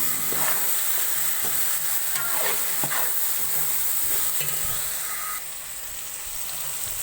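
Ginger paste and green chilies fry in a pan with a constant close sizzle and occasional spatula scrapes, a faint bird calling in the background.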